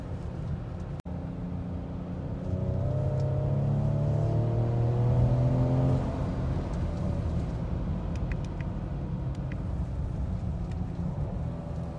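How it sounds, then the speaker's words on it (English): A 2019 Ford Edge ST AWD SUV engine accelerates with a rising drone that climbs in pitch over a few seconds, then drops and settles as the gears shift, heard from inside the cabin over steady road noise. "Shifting into third gear."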